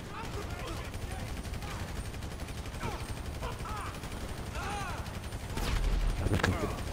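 Mounted machine gun on an APC firing in GTA Online, bursts of gunfire rattling under game sounds, growing louder and denser toward the end.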